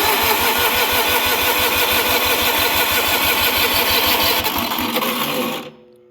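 An old engine-driven welder on a job with a 1967 International truck cranks and fires, giving a loud, steady rapid chugging close by for about five seconds before it cuts off abruptly.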